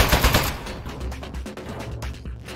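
Turret gunfire in the video game Aperture Desk Job rattles loudly in a rapid stream of shots, heaviest at the start and then continuing in quicker sputtering bursts with mechanical clatter.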